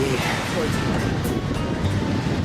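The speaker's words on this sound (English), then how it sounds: "These waves are insane though." Ocean waves and surf rolling onto a Dominican Republic beach at sunset, a steady broadband wash with wind buffeting the microphone, while people talk over it.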